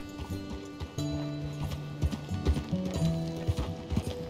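In Red Dead Redemption 2, a horse's hooves clip-clop in a steady, uneven trot close by, with game music and ambient sound underneath.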